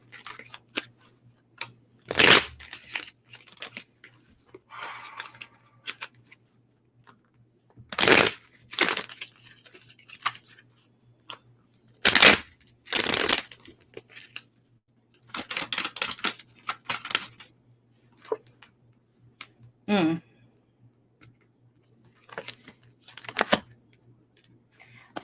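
A deck of cards is shuffled in repeated sharp riffling bursts, close and crisp, separated by quiet pauses, with faint low hum underneath.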